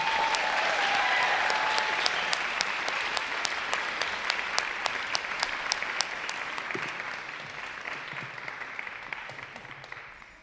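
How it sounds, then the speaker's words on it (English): An audience at an awards evening for inspiring women applauds the winners. Full clapping starts loud and gradually thins and fades over ten seconds, with a few sharp individual claps standing out toward the end. "Can we give a round of applause to all of the winners tonight?"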